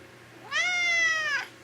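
A domestic cat gives a single clear, drawn-out meow lasting about a second, close and fairly loud against a quiet indoor background, with no talking.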